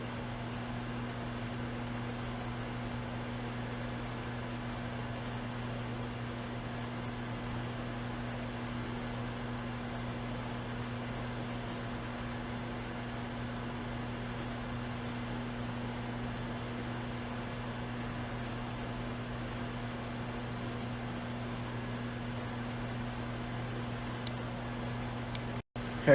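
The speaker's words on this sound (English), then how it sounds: "the end of our second 3-minute cook in the microwave" A microwave oven hums steadily while cooking a maple nut icebox pie filling, a constant low mechanical drone with fan noise, unchanged for the whole stretch and cut off by a click at the end.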